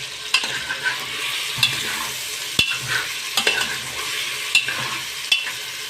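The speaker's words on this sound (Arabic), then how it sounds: "نبدا بقى نحط بصلايه كبيره كده مبشوره انا يعني هنقلبها مع الصدوق بتاعنا" Grated onion being stirred with sausage in a frying pan: soft continuous sizzling with repeated scraping strokes of a spoon against the pan, spaced roughly every second, close and moderately loud.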